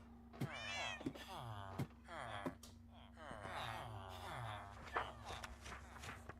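Minecraft cats meowing repeatedly in overlapping calls, with scattered footsteps and soft thumps between them.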